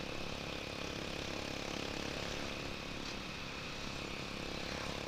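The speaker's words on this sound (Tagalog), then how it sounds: "Parang maingay yung pipe, no?" A TMX Alpha125 motorcycle with a noisy exhaust pipe drones steadily on a ride in Sogod, Southern Leyte, a constant buzzing engine roar mixed with wind, close and unbroken throughout.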